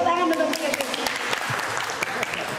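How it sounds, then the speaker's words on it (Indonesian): Applause from an audience of teachers at an Indonesian school workshop, a brief burst of scattered hand claps heard together with talking. "Tepuk tangan untuk CGP."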